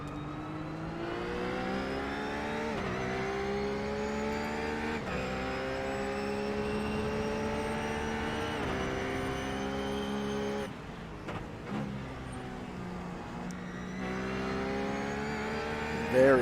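Ruf S3R4 supercars racing at Imola, engines droning and revving through repeated gear shifts at steady high volume, with the pitch climbing and dropping as the cars brake and accelerate.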